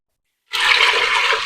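Water poured into an Instant Pot for baked beans, a steady, loud rushing splash that begins abruptly after a short silence and continues evenly to the end, with no talking.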